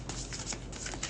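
Tarot cards being shuffled make a brief, close papery riffle lasting about a second.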